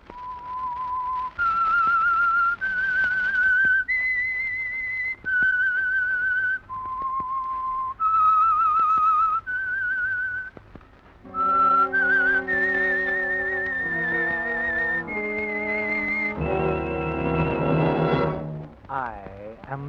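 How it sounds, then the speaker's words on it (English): A whistled theme tune opens The Whistler, the Signal Oil radio mystery program: a clear, close melody of sustained whistled notes, joined near the end by a fuller instrumental passage of rich held chords. "That whistle is your signal for the Signal Oil Program"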